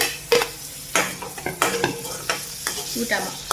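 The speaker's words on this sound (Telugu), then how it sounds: "ఇప్పుడు ఈ టమాటా ఇలా కలుపుకొని" Tomatoes being stirred into sizzling onions in a pan for a mushroom curry, with repeated close scraping and clattering spoon strokes over continuous frying sizzle.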